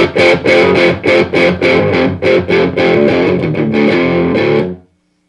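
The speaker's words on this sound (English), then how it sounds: "Reverb all the way up." Loud distorted electric guitar through a Marshall JCM 2000 DSL 50 amplifier with reverb fully up, a rapid run of chugged and sustained chords ending in an abrupt stop and a brief reverb tail.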